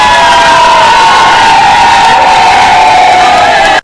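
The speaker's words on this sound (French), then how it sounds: "accueillie par une grande foule de militants du parti au pouvoir avec des chants témoignant un soutien total" A large crowd of ruling-party activists chanting and cheering in support of a candidate at an outdoor rally, a loud sustained roar of massed voices with a held chanted tone, cutting off abruptly at the end.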